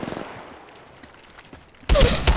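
Automatic weapon fire in Apex Legends Mobile: a faint rapid spatter of shots at first, then a loud, dense, close burst of gunfire near the end.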